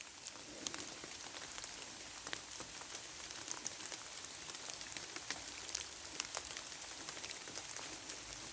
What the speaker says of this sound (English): as you can probably hear, the rain is absolutely lashing it down now